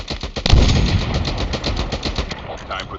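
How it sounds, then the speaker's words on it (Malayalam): Rapid automatic gunfire in the mobile shooter Call of Duty Mobile, a fast steady stream of sharp shots lasting throughout, loud and close. "ആറാ വെടിവെക്കുന്നേ?"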